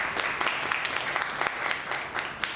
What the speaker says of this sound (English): Let's welcome Ashwini with a quick round of applause.